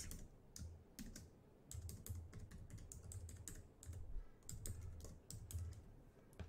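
Quiet, close typing on a computer keyboard, bursts of rapid key clicks with short pauses while contact details are entered into accounting software.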